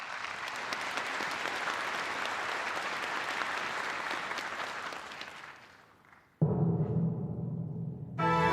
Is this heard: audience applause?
yes